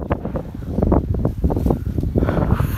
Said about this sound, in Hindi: फुल हवा चल रही है